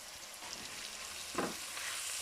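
Whole spices frying gently in ghee over medium-low flame for an potato and egg curry, a soft steady sizzle with a brief stir in the middle, faint and close, no talking.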